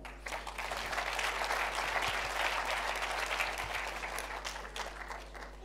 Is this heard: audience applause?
yes